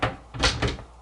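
An apartment drawer slides open and shut in a few quick bursts of wooden rubbing and knocking, close and moderately loud, with no talking.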